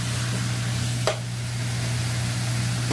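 Chicken pieces browning in a pan for a chicken curry stew give off a steady, even sizzle, broken once by a brief scrape of stirring near the start.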